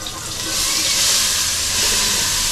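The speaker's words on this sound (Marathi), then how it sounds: "आता आपण कांदे टाकतोय." Onions tipped into a pan of hot oil with whole spices for a paneer biryani gravy, giving a loud, steady broadband sizzle that swells after the first half second and holds without a break.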